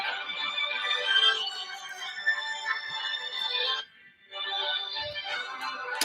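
A phone ringtone plays a repeating electronic melody close by, pausing briefly near the end before starting again.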